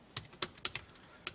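Computer keyboard keys clack in quick, uneven bursts, close and fairly crisp, during word-processor practice, with no voices.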